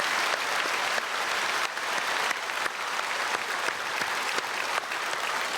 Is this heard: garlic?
no